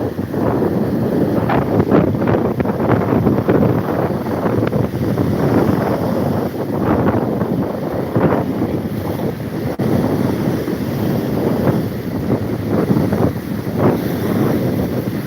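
Strong sea wind buffets the microphone on the Alexandria waterfront, a steady roaring rush with surf-like wash underneath, continuous and loud with no talking.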